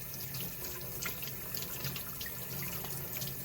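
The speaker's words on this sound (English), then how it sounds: "Just turn on the water and rinse it off." Tap water running steadily into a sink while an inky printing brayer is rinsed under it, a constant close splashing hiss with faint irregular spatters and no talk.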